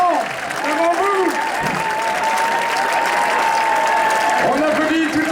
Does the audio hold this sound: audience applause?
yes